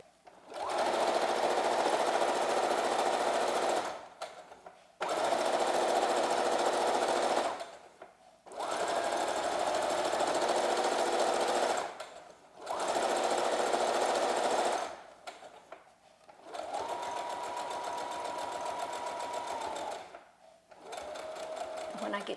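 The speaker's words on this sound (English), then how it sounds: "I'm going to put it in the machine and start it and go right down that edge." Sewing machine straight-stitching down the edge of a fabric face mask, running in five loud sustained bursts of a few seconds each with brief pauses between, close up and steady.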